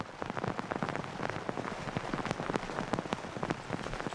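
Heavy rain falling near a volcanic cliff on Mayotte, a dense, steady patter of close drops striking surfaces, with no speech.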